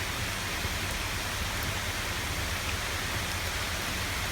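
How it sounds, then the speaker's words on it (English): Rain falling outdoors in the White Mountains of New Hampshire during deer season, a steady, even hiss of dense drops that holds at one level throughout with no voices. "It's starting to rain"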